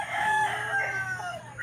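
A rooster at a gamecock-conditioning yard crows once, loud and near, in the dark before dawn. The call is a single drawn-out cry lasting about a second and a half.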